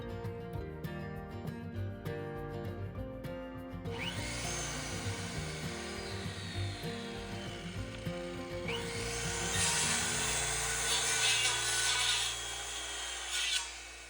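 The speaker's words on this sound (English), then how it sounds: "had to stop to drop the blade of my circular saw so it would cut through the whole board" Circular saw cutting through a wooden subfloor board inside a Ford Transit van under build, a loud continuous high whine with blade rasp that starts abruptly, pauses briefly, then resumes more intensely before cutting off near the end.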